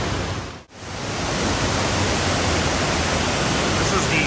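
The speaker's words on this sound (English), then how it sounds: "This is the best waterfall here." Waterfall at the Gaylord Opryland resort in Nashville, a loud, constant broadband roar of falling water that briefly dips then holds steady close by.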